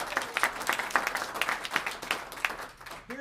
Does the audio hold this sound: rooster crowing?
no